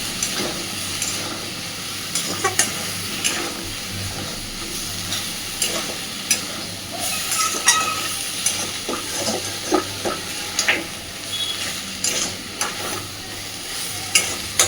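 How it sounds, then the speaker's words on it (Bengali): Potatoes, pointed gourd and prawns are stirred and fried together in a pan for a light fish curry. A steady sizzle runs under repeated scraping strokes and clinks of the spatula, close and fairly loud, with no talking. "আলু পটল চিংড়ি মাছ সব কিছুর সাথে ভালোভাবে একটু নাড়াচাড়া করে বেশিক্ষণ না জাস্ট মিনিট দুয়েক একটুখানি কষে নেবে"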